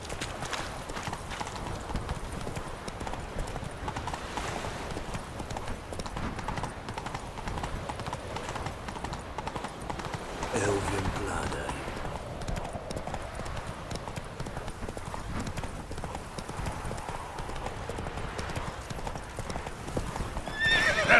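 Roach, a horse in the video game The Witcher 3, gallops with a continuous rapid clip-clop of hooves, neighing partway through, over game ambience.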